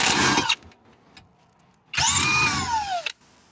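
A power tool whirs loudly in a short burst, falls quiet, then runs in reverse for about a second with a falling whine, close by, backing out a center seat bolt on a 2005 Volvo XC90.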